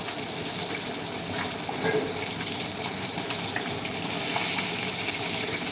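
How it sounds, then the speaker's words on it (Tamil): Cooking oil hitting a hot pan gives a steady, dense sizzling hiss that runs unbroken throughout, close and fairly loud, with no talking. "எண்ணெய் போடுறேன்"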